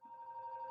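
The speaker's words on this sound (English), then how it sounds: "sorry, phone's ringing." Telephone ringing in a home crochet session, a faint, brief electronic ring tone holding a steady pitch with a slight warble, heard alone.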